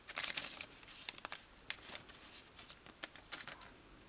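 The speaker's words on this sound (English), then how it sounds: "now it's time to unpack our main video card board" Packaging crinkles and rustles as a video card board for a BBC Micro is unpacked, with irregular close crackles and snaps in bursts, quiet and without talk.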